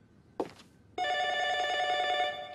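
A telephone rings in the Ju-On: The Grudge PC video game, a steady loud electronic ring starting partway through after a brief sharp knock.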